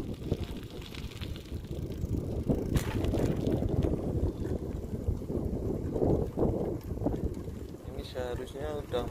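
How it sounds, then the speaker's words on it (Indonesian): Strong wind buffeting a microphone outdoors in South Korea beside a small stream, a constant low rumbling roar throughout, with a person talking underneath. "anginnya kencang banget, kenceng, mungkin suaranya juga nggak jelas ya"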